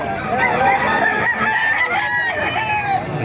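Several roosters crow over one another at a busy chicken market in Bocaue, Bulacan, their loud, overlapping calls filling the whole stretch against steady crowd noise.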